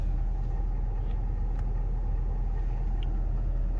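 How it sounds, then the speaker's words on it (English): A Ford engine running steadily during a commanded exhaust regeneration, its low, even rumble continuous and close with no clear rise in pitch, alone without talk. "And you can see the RPMs went up."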